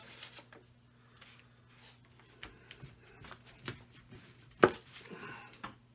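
A knife cuts through a cauliflower steak on a cutting board with scattered soft crunches and light taps, quiet and close, ending in one sharper knock as the blade meets the board.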